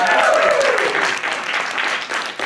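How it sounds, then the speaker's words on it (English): Applause from a comedy show audience at a stand-up graduation show, a dense burst of clapping that slowly thins out. "A round of applause for them."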